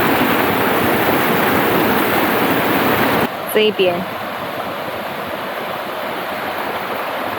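A flooded stream swollen with runoff rushes past riverside lodging by the Limbang River, a loud, steady broadband roar of water that cuts sharply to a quieter, still-continuous flow, with a brief voice speaking.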